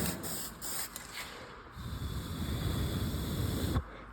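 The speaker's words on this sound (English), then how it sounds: "But spray a little contrast developer on there." Contrast developer sprayed from an aerosol can onto a nickel part during liquid penetrant crack testing: short sputtering bursts, then a steady, close hiss of about two seconds that cuts off sharply.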